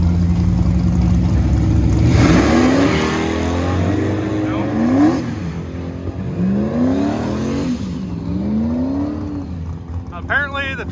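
An old Ford Mustang with a transmission band fault revs and strains, a loud throaty engine drone rising and falling in pitch through repeated surges, with people talking over it.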